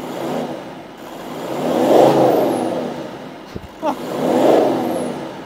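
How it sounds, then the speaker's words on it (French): Volkswagen Touareg R50 from 2007 with its diesel engine running and revved twice; a deep, close engine note swells and falls in two long throttle blips, with a brief click between them. "Alors ça y est, on a démarré le moteur et là, autant vous dire, on a l'impression d'être chez Scania ou un Mercedes Actros."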